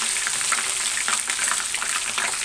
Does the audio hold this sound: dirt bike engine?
no